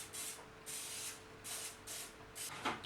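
Cooking spray hisses in four or five short bursts onto a baking tray, close and fairly quiet, each blast lasting about half a second.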